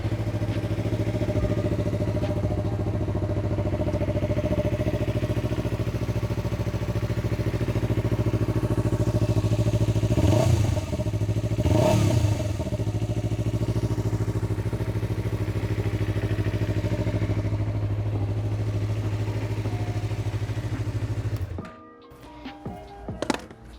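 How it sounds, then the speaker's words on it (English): A Yamaha MT-03 motorcycle idles with a steady close exhaust drone, two quick revs rising and falling midway, before the engine cuts off abruptly near the end. "Let's bust it open and we can have a listen to the exhaust."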